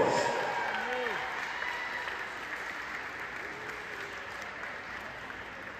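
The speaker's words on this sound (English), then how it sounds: "Another round of applause for Anusian Dashdorj." Audience applause at a college women's or men's basketball senior night, a steady broadband clapping that fades slowly across the whole stretch, with a voice speaking faintly underneath at the start.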